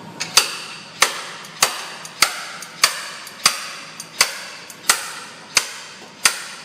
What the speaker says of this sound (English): now we're going to use a slide hammer. And this is a 5-pounder